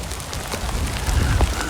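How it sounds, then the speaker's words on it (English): Rain falling outdoors, a dense steady patter of drops close around, loud and continuous with no voices over it. "Can you hear the rain?"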